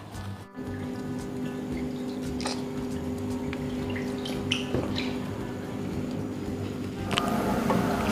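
Water from a pump spills steadily over an aquascape waterfall, a continuous splashing trickle with occasional drips, close and fairly even in level throughout.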